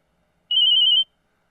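A phone rings with a single short burst of bright electronic trilling, about half a second long, surrounded by silence.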